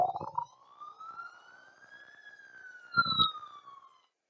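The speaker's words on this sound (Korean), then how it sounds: "이렇게 사이렌 소리에 대해" A police siren plays alone as a test sample, one long wailing sweep that rises and then falls, with a brief louder burst near the end.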